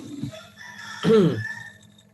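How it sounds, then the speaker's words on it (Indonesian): Chickens at a home in the background, with a rooster letting out one strained crow in the middle after a short cluck, moderately loud and near, no talk over it. "saya banyak punya ayam jadi ayamnya berkokok terus nih"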